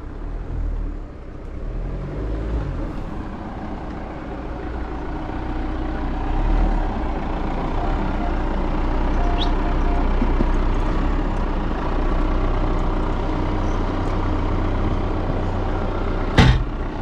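A car labours through deep, loose sand at the Grossos salt flats in Rio Grande do Norte, its engine droning in a steady, heavy rumble that builds slightly, ending with a sharp knock.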